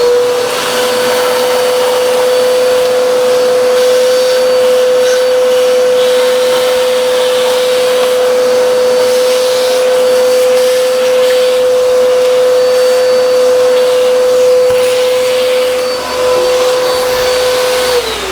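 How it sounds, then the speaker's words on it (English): A Bissell AeroSwift Compact upright vacuum running with its crevice tool attached gives a loud, steady whine with a strong constant motor tone that stays even for the whole stretch, with no voices. "let's turn the vacuum on"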